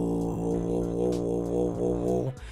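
A deep, gravelly throat-bass growl from a human voice imitating Venom, held steadily for about two seconds with a rough, buzzing harmonic texture before cutting off.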